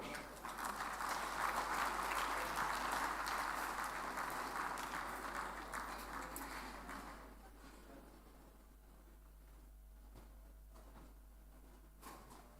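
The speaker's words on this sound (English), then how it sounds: "Please, another round of applause to our own DK Chukwumerije." Audience applause at a 21st anniversary celebration, a broad sustained wash of clapping that fades after about seven seconds, leaving a quieter room with faint scattered sounds.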